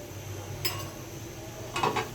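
Carrots being stirred in a pot of milk for carrot barfi, with two brief clinks of a utensil against the pot over a low, steady background hum.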